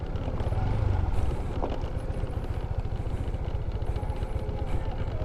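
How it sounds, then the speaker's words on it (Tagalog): A motorcycle engine chugs with a steady, rapid low pulse while riding slowly along a slippery, muddy dirt road in a nature park in Quirino Province, close and continuous, with faint talk in the background. "Pero kayang-kaya naman ng motor."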